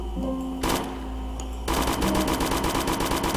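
Rapid automatic gunfire from a zombie shooter video game, with a short burst early on and then a dense, continuous rattle of shots. The shots are loud and close, with no talking.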